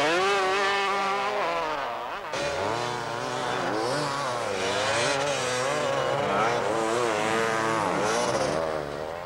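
Enduro motorcycle at the 1995 Enduro des Baines, its engine loud and close, revving and shifting pitch continuously as it rides hard over terrain.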